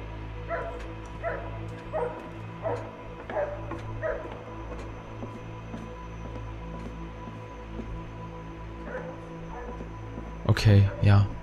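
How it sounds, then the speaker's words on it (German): Dog barking inside the horror game The Nightfall, repeated yips and barks in short bursts through the first half, someone talking over them, then a sharper louder burst near the end. "dieser blöde Hund soll endlich mal aufhören zu bellen"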